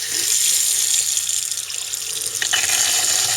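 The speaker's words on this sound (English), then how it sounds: "run the faucet in the bathroom until you smell bleach" Cold water runs steadily from an RV bathroom faucet while the fresh water system is sanitized, a loud, continuous hissing splash into the sink with a slight change in tone near the end.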